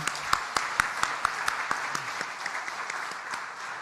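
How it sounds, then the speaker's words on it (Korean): A church congregation applauds during a worship service, with a steady wash of many hands clapping and a few sharper individual claps standing out near the front. "하나님께 영광의 박수를 올려드립니다."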